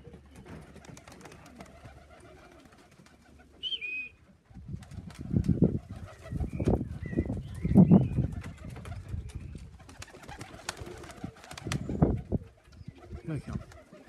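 Pigeons cooing as they come in to land, soft low coos repeating steadily and fairly close, with wingbeats and light movement sounds around them.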